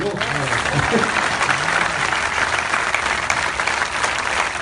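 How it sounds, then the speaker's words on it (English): A dense wash of applause from a large outdoor satsang crowd in a Mumbai park, sustained and even throughout, with faint voices mixed in. "Come on, keep clapping"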